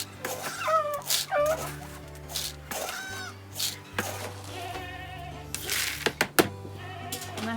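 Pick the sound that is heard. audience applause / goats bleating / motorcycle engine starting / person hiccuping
goats bleating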